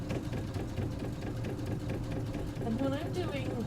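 A sewing machine stitching in the ditch on a quilt runs with a steady mechanical hum and needle rhythm, close by, while people talk over it.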